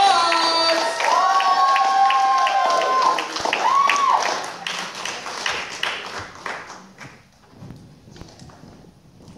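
A theater audience at the Manship Theater claps for comedian Josh Watts with dense, steady applause that follows a brief burst of tonal sound, then slowly thins and fades.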